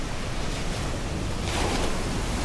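Ocean waves washing onto a beach in Kemaman, a steady broadband surf roar with wind noise on the microphone, swelling a little louder in the second half as a wave breaks nearby.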